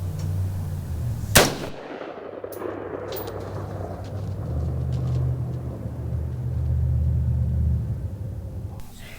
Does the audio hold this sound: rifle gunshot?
yes